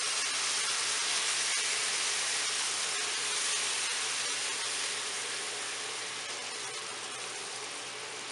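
Spiced potatoes cooking over medium heat in an open pan, a steady close hiss of sizzling oil with faint occasional ticks and stirring clicks, easing slightly toward the end, no voices.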